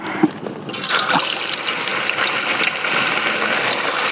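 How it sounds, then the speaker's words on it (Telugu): Chicken lollipops go into hot oil, setting off a sudden loud, dense hiss that keeps bubbling steadily and close up, with no talk. "నూనె అయితే కాగిపోయింది. ఇంకేంటంటే మనం ఇవి వేసేసుకుందాం."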